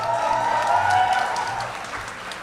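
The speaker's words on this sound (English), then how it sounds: "please welcome with a huge round of applause" Applause rises for a graduate of the 2021 batch at a St. Xavier's College graduation ceremony in Mumbai, a steady broad wash of many hands clapping that stays full, then eases slightly toward the end.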